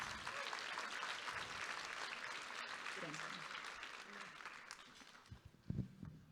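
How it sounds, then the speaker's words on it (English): Conference audience applauding a vice chair before her opening remarks, a steady broad clapping wash that fades slightly toward the end, with a few louder close sounds near the finish. "if you guys could please clap for Vice Chair Gonzalez."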